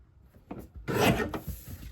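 A paper strip for a card is trimmed to size on a trimmer, giving a short scraping, rasping slide of the blade close by after a few soft handling taps.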